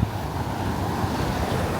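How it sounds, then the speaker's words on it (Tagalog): Strong wind buffets the microphone on a beach in Boracay near Diniwid Beach, a loud, continuous roar with surf washing underneath and no voices. "Ang lakas ng hangin."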